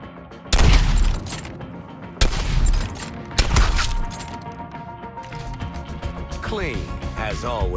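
Gunfire in the video game Suicide Squad: Kill the Justice League, with three loud, booming volleys of shots spaced a second or two apart, followed by sustained rattling and whooshing effects under game voices.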